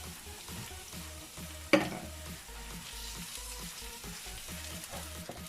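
Garlic and ginger fry in a pan for a Jamaican tin mackerel rundown, a steady close sizzle broken by one sharp clatter early on, then a gentle crackle of stirring throughout.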